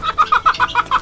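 Farm chickens cluck close by in a quick rhythmic series of about eight short calls over one second, with no talk.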